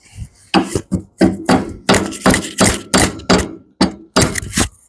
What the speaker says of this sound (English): I'm gonna be hammering it in a downward direction.